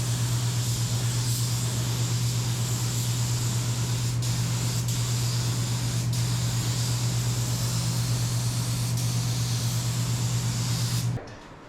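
Continuous close hiss of a spray gun laying base coat paint onto a hot rod's car body, steady and loud over a low hum, cutting off abruptly near the end.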